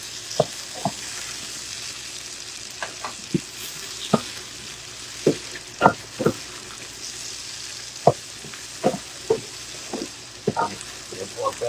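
Tomatoes and corned beef fry in a pan with a steady sizzle, broken by sharp spatula scrapes and clinks as the mix is stirred. No one speaks.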